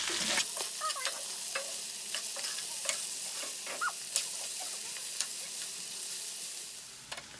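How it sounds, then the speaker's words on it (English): Prime rib pieces sizzle loudly in their own juice in a hot pan, a dense continuous crackle and spatter with brief scraping sounds of stirring scattered across it, close up and without talk. "The prime rib cooking in its own juice."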